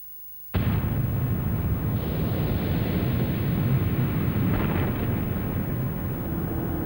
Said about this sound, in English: Time and space began with a Big Bang